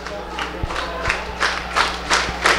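Football supporters backing Rio Branco in an under-23 Campeonato Paulista match, chanting in rhythmic surges with a pulse of about one per second, claps and low drum thuds under the crowd from a distance.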